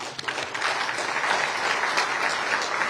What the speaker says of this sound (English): deserves a clap of hands, I'm sure